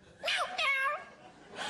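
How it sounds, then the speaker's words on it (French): A cat with a skin condition meows twice in quick succession, close and fairly clear, with a faint third cry starting at the end; no one talks. "Oh, c'est mon chat."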